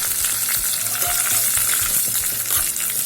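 Curry leaves and a dried red chili with urad dal tempering in hot oil for a chutney, a loud, continuous crackling sizzle with steady popping throughout.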